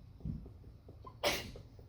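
A single sharp sneeze bursts out about midway, loud and close, preceded by a soft intake of breath in an otherwise quiet math lecture room.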